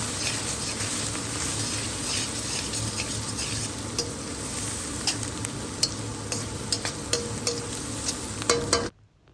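Spoon stirring coriander and cumin powder into an onion base frying in a pan, with a steady sizzle, scraping strokes and occasional light clinks against the pot, ending abruptly.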